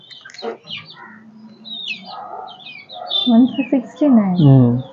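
Young country chicken chicks chirp in high, rapid peeps on a small-scale poultry farm, close by and fairly loud, with someone talking over and between the calls.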